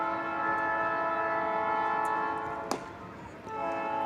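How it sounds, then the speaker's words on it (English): A train rolls past near a baseball field, its horn sounding as a sustained, layered chord across the whole stretch, loud and steady with a brief sharp click partway through. "Boy, we got trains."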